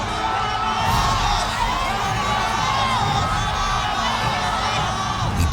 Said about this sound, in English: He distinctly hears the crowd scream,